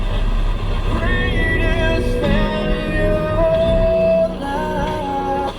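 The original radio in a 1969 Pontiac Grand Prix Model J plays steady tonal music for several seconds, mid-level and close, over a low rumble of the parked car.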